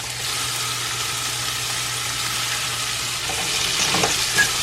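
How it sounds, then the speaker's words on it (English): Vegetables sauté in fish oil in a pan over low heat, giving a steady close hiss of frying that holds evenly throughout, with a slight swell of crackle near the end. "And then you want this to saute for about 2 minutes on low."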